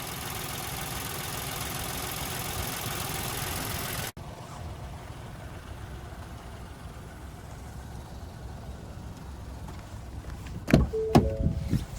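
Ford Bronco Sport's 1.5-liter EcoBoost three-cylinder engine idling, a steady low hum that follows a louder broadband stretch, with a few sharp clicks and knocks near the end.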